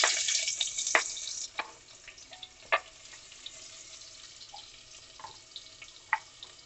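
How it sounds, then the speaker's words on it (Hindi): Finely chopped onion fries in hot ghee for a Patanjali barley dalia, a steady soft sizzle with scattered crackles and a few sharper pops, heard alone without talk. "प्याज को हम 1-2 मिनट भून लेंगे।"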